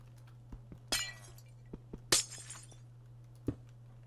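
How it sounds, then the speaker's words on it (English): Glass breaks in the video game From Ashes: Reborn. Two quiet, sharp shattering crashes about a second apart, scattered with soft clicks and thuds. "Why not break the glass?"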